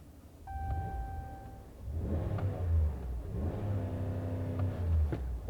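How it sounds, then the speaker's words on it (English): The V8 engine of a Ram 1500 Rebel pickup revs twice in deep, growling surges that rise and fall, heard close and fairly loud after a faint tonal chime at the start. "nice little growl coming from that engine because it's a proper V8, so it does sound very good"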